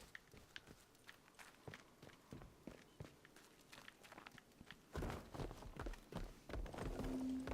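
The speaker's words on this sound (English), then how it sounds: "Must just be my footsteps I can hear" Footsteps of a character walking in the video game Atomfall, a steady run of soft, close thuds that grow louder and busier toward the end.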